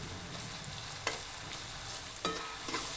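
Cauliflower stirred with homemade masala and coriander powder in a hot pan for a Marathi-style pindi flower bhaji, giving a steady faint sizzle with a few brief scraping strokes, no voices.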